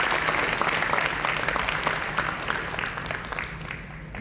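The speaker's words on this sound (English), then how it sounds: "give your hand a round of applause for coming out tonight" Audience applause at a community stage event, a crowd clapping steadily, fairly faint and gradually tapering off toward the end.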